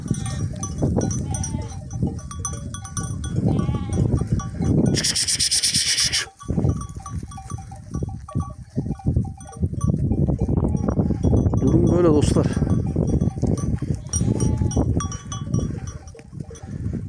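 Sheep and lambs on a spring pasture bleat repeatedly at varying distances, with a bell clinking among the flock and someone talking in between.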